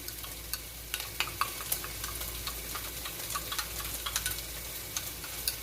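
A spoon stirring a yeast mixture in a bowl, light clinks and scraping ticks repeating irregularly over a low steady hum, close and quiet.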